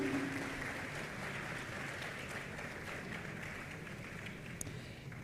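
Applause from an audience at a college of engineering public lecture on artificial intelligence: a faint, steady patter of clapping from a distance that lasts throughout, with no talk over it.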